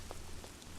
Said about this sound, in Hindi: सुबह सुबह बारिश कहाँ से आ गई